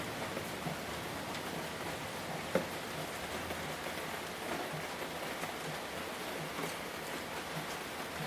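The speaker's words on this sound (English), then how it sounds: "and the rain continues." Steady, soft rain falls continuously, a gentle even hiss with a single faint drip or tap standing out partway through.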